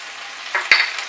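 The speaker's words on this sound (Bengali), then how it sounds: "টমেটো দেওয়ার পর আমি আরো 1 মিনিট ফ্রাই করব।" Tomatoes with green chilli join fried potato and papaya in a pan over high flame, giving a soft sizzle that swells as something hits the hot oil, with a sharp clink of a utensil.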